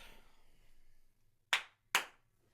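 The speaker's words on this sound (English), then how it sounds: "let's do another clap." Two sharp, isolated hand claps about half a second apart, close and loud, made to sync a podcast recording, after a quiet stretch of faint room tone.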